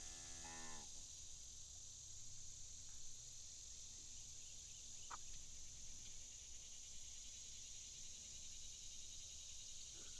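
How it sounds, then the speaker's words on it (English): A cattle moo sound effect in an FMOD and Unity game demo, one brief low moo at the start, then a steady bed of crickets and insect buzz with a faint click, no speech. "Let's see if we can get two moos in our example here."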